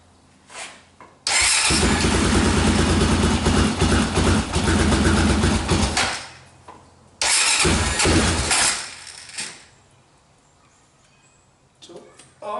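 A Honda 400EX ATV engine with the choke on cranks and fires into two loud bursts of rough running, each lasting several seconds, separated by a short pause and followed by quieter trailing sounds, close up.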